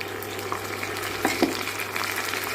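Ginger-garlic masala sizzles and fries steadily in a pan for prawn thokku, close and continuous, with a couple of stirring clicks partway through.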